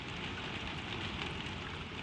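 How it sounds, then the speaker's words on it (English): Gentle rain falls steadily outside a window, a soft, even hiss of drops on glass and surfaces, faint and continuous with no other sounds. "the rain is on the far side of the glass"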